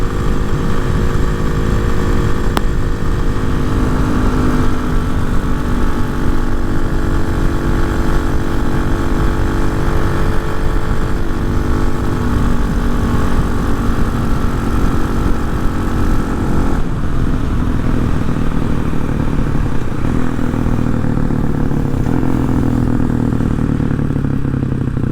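Hawk 250 motorcycle fitted with a Loncin RE250 six-speed engine, riding a long uphill stretch: a loud, continuous close engine drone under strain, steady throttle with a slight pitch change partway through.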